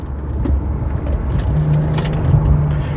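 An old Mercedes CLK 320 on a short test drive, with a steady low engine and road rumble from inside the cabin and a faint rising hum partway through, loud and continuous.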